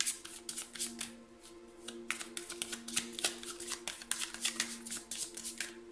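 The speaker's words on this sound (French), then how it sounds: "je vais tirer une petite carte conseil" Tarot advice cards being shuffled and drawn: a rapid, continuous patter of close papery flicks and slaps, fairly quiet and unbroken by speech.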